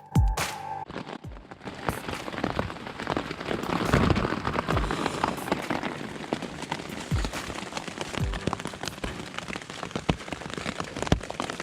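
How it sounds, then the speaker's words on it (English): Steady rain pattering on a thin tent at a campsite on Fraser Island, Australia, with dense drops and occasional louder taps, no voices. "it's been raining since like maybe 6 AM"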